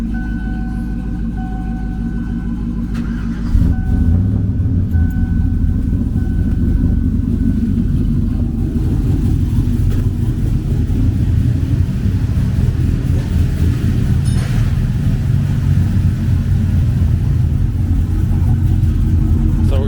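An old GM Chevrolet Silverado pickup truck engine cranks and catches after a few seconds, then settles into a loud, close, steady rumbling idle that continues to the end.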